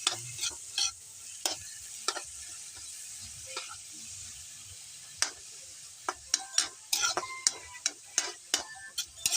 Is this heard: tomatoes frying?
yes